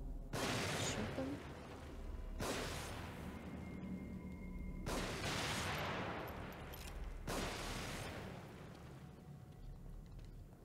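Bursts of gunfire in The Evil Within, four dense, loud volleys spaced a couple of seconds apart, each a broadband crackle of rapid shots that fades before the next begins.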